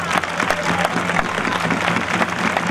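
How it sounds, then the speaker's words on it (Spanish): A crowd at the Salamanca fair opening ceremony applauds, a dense steady patter of many hands clapping throughout at moderate volume, with faint voices mixed in. "Fuerte aplauso para nuestras campeonas"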